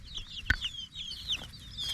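Meat chickens in a mobile coop cluck and chirp close by, overlapping soft calls with a brief sharp peep in the middle.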